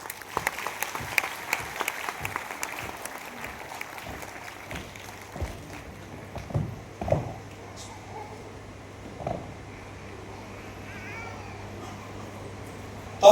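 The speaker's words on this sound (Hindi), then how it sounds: "जोरदार तालियां बजाएं।" At a road safety event, a crowd claps in a quick, rhythmic beat that is strongest at the start and then thins out into scattered sounds and a few distant voices.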